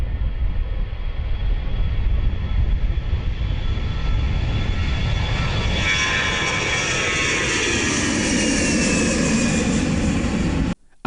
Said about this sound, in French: C'est pratiquement à 15h25 que l'appareil a décollé.